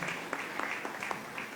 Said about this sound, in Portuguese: Vamos receber a nossa irmã então com salva de palmas